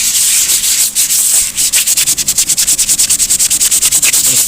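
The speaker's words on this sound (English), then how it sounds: "I'm going to sand this down." Hand sanding of soft, putty-like dash filler on a 1976 square-body crew cab dashboard with 320-grit sandpaper: loud, steady rasping strokes that quicken into a fast, even back-and-forth rhythm, close up with no talking.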